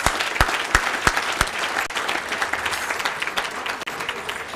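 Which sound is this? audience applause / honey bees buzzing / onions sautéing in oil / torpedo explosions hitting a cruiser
audience applause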